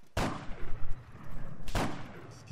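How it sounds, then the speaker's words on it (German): Two loud, booming gunshots in the video game Arma 3's Altis Life mode, about a second and a half apart, each followed by a rumbling echo that trails off. "Kann sein, dass Sie jetzt bei euch ein paar Schüsse kommen."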